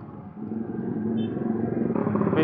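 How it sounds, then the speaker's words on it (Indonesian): Loud motorcycle with an R9 aftermarket exhaust riding close behind on a rough road, a deep rumbling engine drone that grows louder and rises in pitch near the end. "Nih motor apa lagi nih di belakang gua?"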